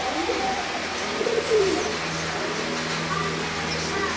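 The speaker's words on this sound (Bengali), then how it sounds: "এখানে এক জোড়া রানিং খাকি আছে," A pair of running khaki pigeons at a pigeon sale coo softly and repeatedly, with a steady hum of background noise underneath.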